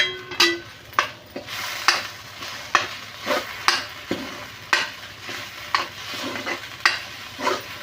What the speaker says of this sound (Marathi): मॅगी मसाला टाकून मी छान असं परतून घेतलेलं आहे